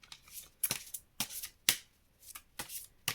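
Oracle cards from a Merlin oracle deck are shuffled in several quick riffling bursts with short pauses between them, close and crisp with no talking.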